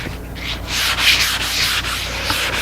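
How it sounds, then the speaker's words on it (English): Light sandpaper strokes rub back and forth across a pine board coated twice with blotch control, a close, steady series of soft rasping swishes with no talking. "I'm just touch sanding it."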